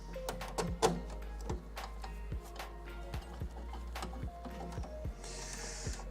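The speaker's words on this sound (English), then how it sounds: "So this printer was sent to me by Bambu Lab, I guess, a few weeks ago now." A Bambu Lab X1 Carbon 3D printer runs close by, with rapid ticks, short motor whirs and clicks over a steady low hum.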